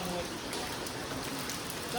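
Steady rain pours down outdoors in the Konkan countryside, a soft even hiss of drops that stays constant and fairly faint throughout.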